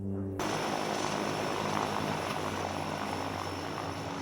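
A plane engine from a Breaking Bad episode roars steadily and loudly after an abrupt start, a dense constant propeller drone with no voices over it.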